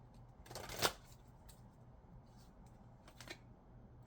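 A few soft riffles and taps come from Angel Tarot cards handled and shuffled up close in a quiet room, one brisk burst early and a lighter flick near the end.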